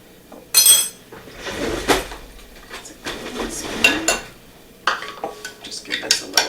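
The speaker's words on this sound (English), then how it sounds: "Just give this a little stir." Homemade Greek yogurt gets a quick stir in a bowl, producing close, uneven clinks and scrapes of a utensil against the dish in short bursts with gaps between.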